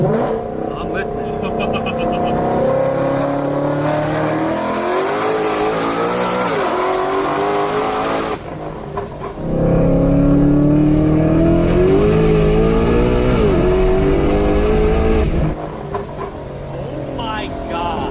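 Stock-engine Shelby GT500 built to 1100 horsepower, revving hard toward 8800 RPM, a loud, sustained screaming wail with rising and falling pitch, a brief dip near the middle, and voices talking faintly underneath.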